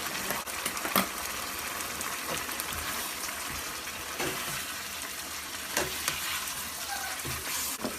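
Onions, beans and green chillies fry in a pan for a masala chicken dish, a steady close sizzle broken by periodic scraping stirs of the spoon, with no voices.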